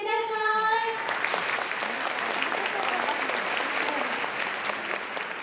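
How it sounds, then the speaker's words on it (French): A television studio audience gives warm, sustained applause to welcome a guest, dense clapping rising right after a brief musical sting and holding steady. "Merci de l'accueillir avec un tonnerre d'applaudissements."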